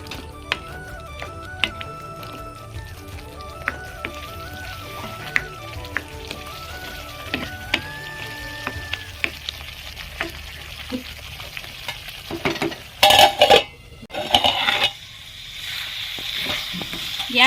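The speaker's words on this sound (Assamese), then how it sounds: "এতিয়া মই এয়া ভাজি থোৱা বেঙেনা আলুখিনি ইয়াত দি দিছোঁ।" Eggplant and potato fry in a pan with steady sizzling and stirring, a melodic tone running through much of it, then sharp scraping bursts near the end.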